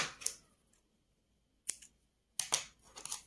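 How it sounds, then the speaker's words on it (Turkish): Scissors snipping yarn while making an amigurumi rabbit, a few quiet, sharp cuts spaced apart with silence between them. "Evet, ipimi kesiyorum."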